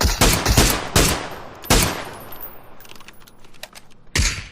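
Gunfire in the battle royale game PUBG, several sharp loud shot bursts in quick succession near the start, then a pause and another crack at the end, with no talking over the shots.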